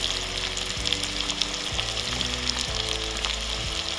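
Onions fry in a pan for Bengali-style fried rice, a steady dense sizzle with crackling sputters throughout, close and continuous with no talking.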